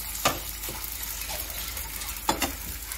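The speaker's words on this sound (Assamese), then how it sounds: "গুড়াটো ভাজি লৈছোঁ" Rice flour dry-roasting in a pan, with two sharp scraping strokes of a stirring utensil standing out over a low, steady background hiss.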